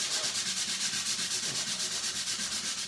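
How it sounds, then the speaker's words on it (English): A wooden shelf is hand-sanded with sandpaper in rapid, even back-and-forth strokes, a close, steady scratchy rasp pulsing in regular rhythm. "Now I'm going to use the sandpaper, initially, not heavily"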